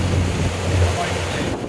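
Steady wind rushing past a fishing boat out on Little Bay De Noc on a cold, windy day, a constant low rumble of gusts against the microphone, mixed with water wash, with no voices.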